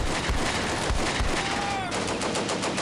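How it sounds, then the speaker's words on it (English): Mortar fire in the WWII video game Combat Mission: Beyond Overlord, heard as loud, continuous rumbling explosions and gunfire that fill the whole stretch. "some mortars striking these guys"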